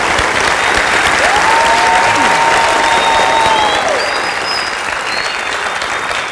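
A television studio audience breaks into loud, sustained applause on an Egyptian talk show, dense clapping filling the whole moment and easing slightly toward the end.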